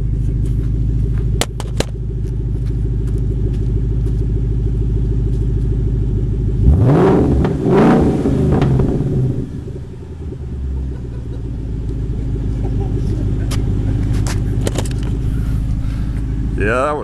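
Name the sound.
2014 Ford Mustang GT engine revving with no mufflers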